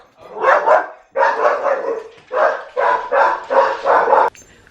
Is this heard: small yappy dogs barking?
yes